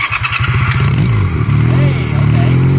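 Small motor running on beans, cranked over with a rapid chugging clatter before catching and settling into a loud, close, steady revving drone, with a voice mixed in.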